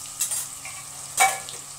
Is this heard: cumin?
yes